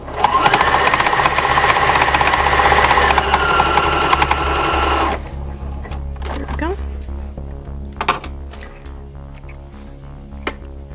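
Sewing machine stitching fabric for a Christmas stocking, a loud steady mechanical whir for about five seconds that then stops, leaving quieter handling sounds and a low hum.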